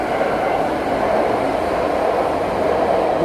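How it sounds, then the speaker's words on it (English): A train rumbles steadily past at close range in Fruitvale, a loud continuous roar of rail and wagon noise with no pauses and no voices. "wait till the train goes."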